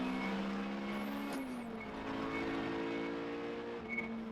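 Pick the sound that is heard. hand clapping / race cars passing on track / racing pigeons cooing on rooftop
race cars passing on track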